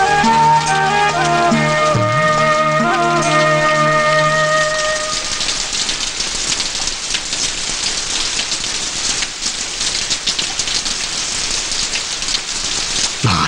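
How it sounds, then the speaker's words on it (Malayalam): Heavy rain pours down in a dense, continuous roar, with a sustained tonal sound fading out over the first few seconds before the downpour continues alone. "നാശം, ഈ മഴയും തോരണല്ലോ."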